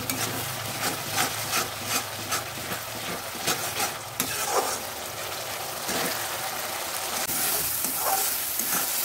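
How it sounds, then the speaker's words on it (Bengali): Tomato and onion paste fries in a pan, giving a grainy, bubbling sizzle with intermittent stirring scrapes at first, then a steadier, slightly louder hiss toward the end. "টমেটো পেস্টটা কিছুটা ভাজা হয়ে এসেছে"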